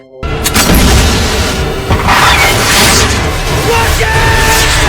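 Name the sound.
explosion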